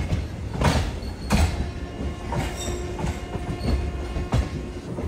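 Heard from on board, a MEMU passenger train runs on the Rajahmundry to Bhimavaram line: a steady rolling rumble with periodic clicks and thumps as the wheels cross rail joints.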